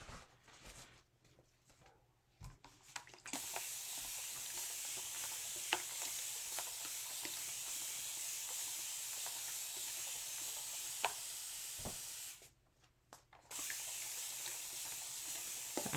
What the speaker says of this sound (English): I'm just spraying this down.